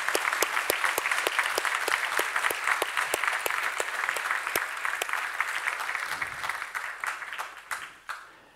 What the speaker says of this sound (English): I think we should give her an applause.